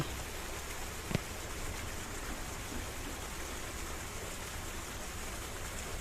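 Heavy overnight rain pours down in a dense, steady hiss, with one brief sharp tap near the start and no voices.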